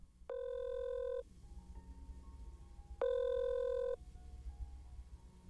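A telephone rings in two long electronic bursts separated by a pause, clear and fairly close, with faint background noise and no one answering.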